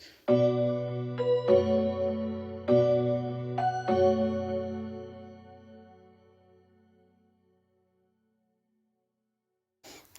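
A synthetic bell plays a slow melody of chiming notes that ring out and fade into a long decaying tail, followed by near silence.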